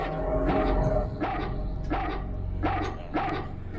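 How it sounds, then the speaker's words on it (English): Dog barks from the video game Haunting Ground, about five separate barks at a steady rhythm over a constant low game backdrop, moderately loud and close. "What is that dog bark though?"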